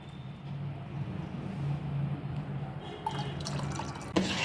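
Water poured off washed homemade butter into the vessel holding buttermilk, heard as a soft steady trickle and drip at close range, ending in a brief louder splash; no talking.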